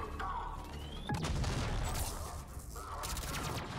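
Dense gunfire from Mass Effect 3 is aimed at an Atlas heavy mech, with crackling bursts, booms and mechanical clanks packed together at a fairly loud, steady level.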